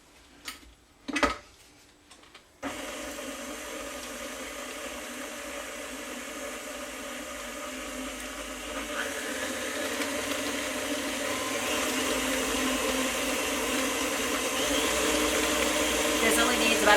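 An electric mixer beats butter and sugar for cookie dough, starting after a few brief knocks and then running as a continuous, steady whir that grows slightly louder.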